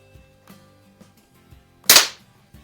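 A single sharp air pistol shot cracks out loud and close in a garage, preceded by faint handling clicks and followed by a brief fade.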